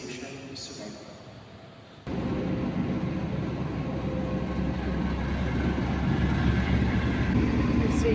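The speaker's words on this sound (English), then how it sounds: "Train coming" A train pulls into KL Railway Station in Kuala Lumpur; after a quieter platform hum, a loud, sustained rumble of wheels and motors suddenly swells and keeps rolling close by.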